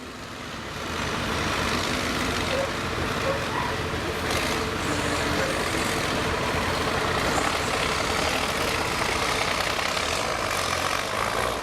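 Black Mercedes three-axle truck at a truck trial event, a loud sustained diesel engine roar that rises and holds under throttle, heard outdoors with a steady rumble and no speech.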